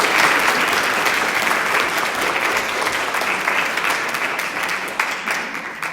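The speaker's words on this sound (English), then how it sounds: "Big round of applause for Dr. Ladd." A steady round of applause from the audience at an equine education day rises for a veterinarian speaker, moderately loud and continuous for nearly six seconds, then begins to thin toward the end.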